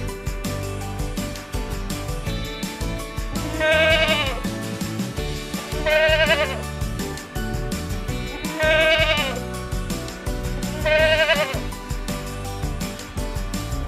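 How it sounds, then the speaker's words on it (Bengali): A young goat bleats four times at even intervals, clear and fairly close, over a steady bed of children's music. "ছয়ে ছাগল ছানা লাফিয়ে চলে"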